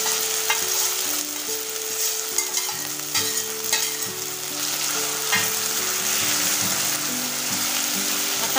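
Grated potato is stirred into browned, melted sugar for a fasting potato halwa, giving a loud, continuous close sizzle broken by spoon scrapes and clinks over a faint low tonal background.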